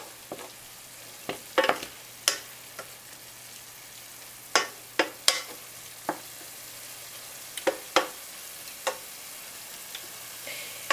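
Ground meat browns in a hot pan, a soft continuous sizzle punctuated by irregular sharp scrapes and taps of a utensil as it is stirred, close by, with no talking.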